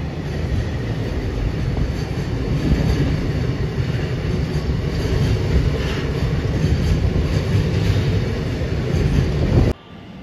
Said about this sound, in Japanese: 北長瀬駅10時54分通過貨物列車水島臨海鉄道駅行き DD200 ディーゼル機関車です。